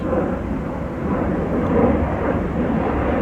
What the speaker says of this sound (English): Sorry, excuse the plane noise, 1 second.